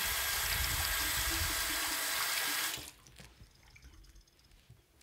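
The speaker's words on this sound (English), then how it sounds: "I'm gonna fill up the sink real quick" Tap water runs into a sink in a strong, steady close gush for a few seconds, then stops sharply, leaving quiet drips and faint handling noises.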